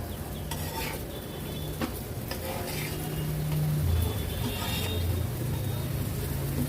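Spinach paratha roasts in oil on a pan, giving a soft continuous sizzle with scraping and light clatter as it is flipped and pressed, while a voice talks over it at moderate level.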